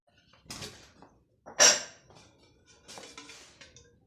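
A cooking pot set down on a stovetop while preparing fennel kadhi in a home kitchen, heard as a few distinct metallic clunks and a sharp clatter, close and moderately loud, with no talking.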